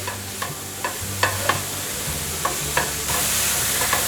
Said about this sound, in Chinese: 不停的翻炒